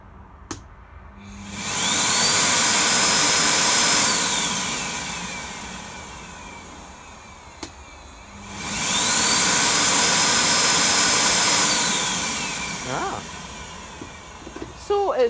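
A Miele S6220 vacuum cleaner motor, with slightly noisy bearings, is switched on twice; each time it spins up into a loud whining roar, holds, and winds down, followed by brief clicks and handling noise.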